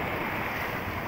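Sea waves wash up at night on a beach where a fishing boat has come ashore, a constant, rushing roar mixed with wind buffeting the microphone, with no voices.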